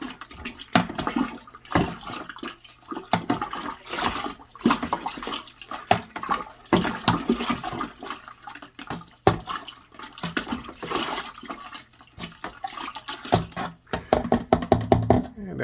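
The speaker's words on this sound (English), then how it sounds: "give our strawberry juice mixture a nice, good, vigorous stir" Strawberry juice mixture for a gallon of homemade wine is stirred vigorously, with continuous loud sloshing and splashing of liquid in a container.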